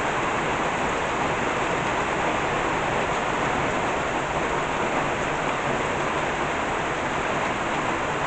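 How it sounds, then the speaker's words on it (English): Heavy rain pours down around midday, a dense, even, unbroken roar of drops on surfaces, steady and loud throughout without any voices. "And some really amazing rain."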